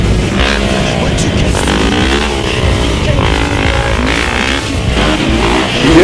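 A motorcycle engine is revved hard and close, its pitch rising and falling in repeated surges over a loud, rough roar that fills the whole stretch.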